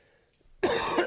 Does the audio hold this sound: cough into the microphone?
yes